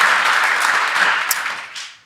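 Live podcast audience breaks into a burst of applause, dense close clapping that holds steady before tapering off and fading out within about two seconds.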